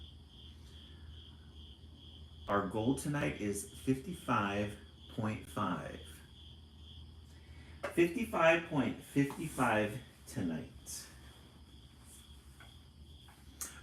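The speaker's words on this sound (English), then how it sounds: "I love the crickets in the background" Steady high-pitched insect chirping, likely crickets, runs faintly throughout behind a person speaking in two bursts.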